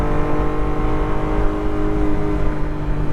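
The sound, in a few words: 1991 Honda Beat engine accelerating while driving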